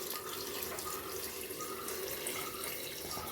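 Water streams steadily into a rice pot for cooking, a continuous close pouring rush with no voices over it.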